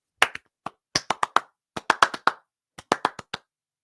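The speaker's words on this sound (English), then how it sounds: "I'm clapping harder." Sharp, close hand claps in short irregular bursts, a few quick claps at a time separated by brief silences.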